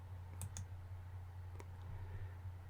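A few sharp clicks from a computer mouse button, with two close together and one more a second later, faint and set over a steady low hum with no talking.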